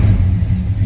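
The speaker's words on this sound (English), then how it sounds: "We're going to start up our 71 GMC." A 1971 GMC K1500 pickup truck engine runs at a steady idle, giving a loud, close, low exhaust rumble with no voices over it.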